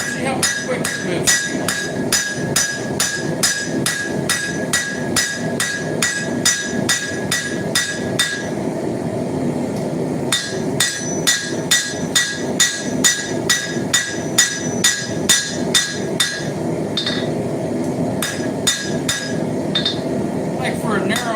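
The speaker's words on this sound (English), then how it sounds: "Use this hammer. See how quick it moves." A hand hammer strikes hot steel while a horseshoe is forged into a knife, ringing blows falling in a fast, steady rhythm close by for the whole stretch, with a brief pause partway through.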